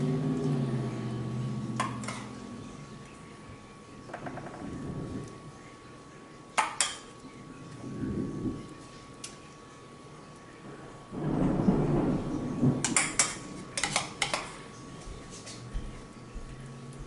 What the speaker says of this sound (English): Now I'm spreading about half of my sour cream and chili mixture on top of the rice.